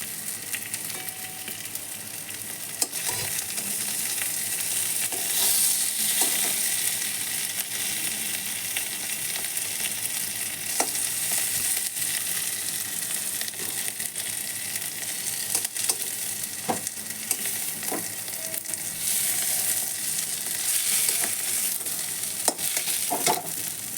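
Bay leaf and cinnamon fry in hot oil with a dense, steady sizzle that runs unbroken for over twenty seconds, punctuated by occasional stirring clicks, close and loud.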